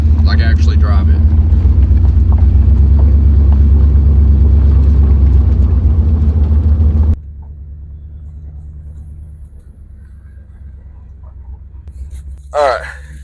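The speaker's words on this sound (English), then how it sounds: "We're cruising around a cemetery right now because I want to try to get the Jeep up to operating temp before I drive it" A Jeep engine cruises slowly around a cemetery while warming up to operating temperature, a loud deep rumble that suddenly drops to a quieter hum, with a voice talking over it.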